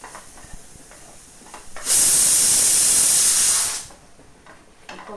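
A pressure cooker of horse gram lets out one loud, sustained steam whistle-hiss of about two seconds, rising sharply and cutting off, with a quiet kitchen before and after.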